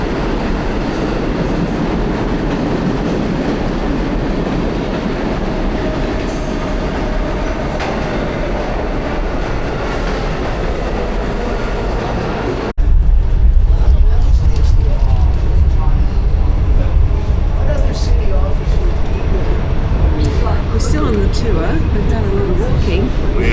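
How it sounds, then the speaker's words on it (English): A New York City subway train rumbles and rattles loudly along the tracks, with a steady roar that jumps louder partway through, wheel clatter and occasional squeals, and voices talking faintly underneath. "we headed underground for our very first ride on the New York City subway"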